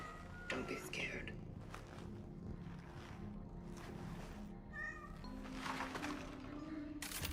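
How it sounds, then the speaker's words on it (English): A cat meows a few times in the video game CRONOS The New Dawn, short whining calls over a low rumbling game ambience with soft whispered voices and murmured talk. "Good cat. Don't be scared."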